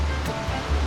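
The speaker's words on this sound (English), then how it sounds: "Big waterfall there." A big waterfall at Hollerwood Offroad Park in Slade, Kentucky gives a brief, steady rushing roar of falling water, with a low rumble underneath.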